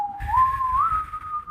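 A person whistles a single long, sustained tone that bends slightly upward partway through, imitating an ominous movie sound effect, close and clear with no other sounds.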